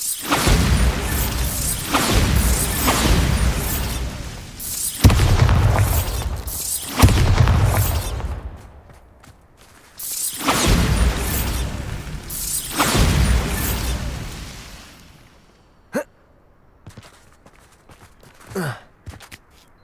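Bombarda blasting spells go off in Hogwarts Legacy as a series of heavy booming explosive bursts, each with a rumbling tail, roughly every couple of seconds, followed by a few sharp, isolated clicks and thuds.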